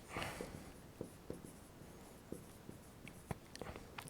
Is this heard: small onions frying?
no